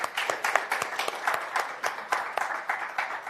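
Audience at a privacy symposium in Harare clapping hands, a moderate indoor applause with distinct individual claps in an uneven rhythm.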